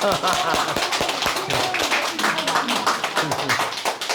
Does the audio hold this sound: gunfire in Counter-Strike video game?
no